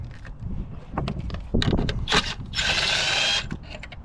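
An impact driver or ratchet wrench with an 8mm socket working the battery hold-down on a 2009-2013 Mazda, short clicking and rattling bursts followed by a longer whirring run, close up.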